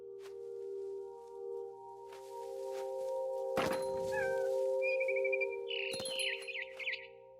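Inside What Remains of Edith Finch, a cat gives a few rising meows and chirps near the end, preceded by a thump, all over a sustained tonal music drone.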